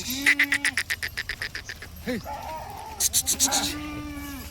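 Goats bleat repeatedly at a livestock market where buyers have come ahead of Diwali, a string of rapid, wavering cries up close with a few quieter animal calls in between.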